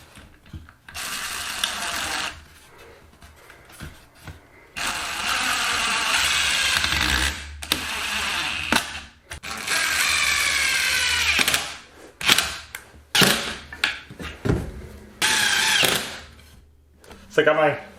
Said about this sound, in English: And I'm going to be screwing them in